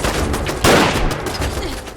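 A bolt-action rifle fired in the Fallout 4 video game, one loud sharp close shot with a short rumbling tail, amid faint background game noise.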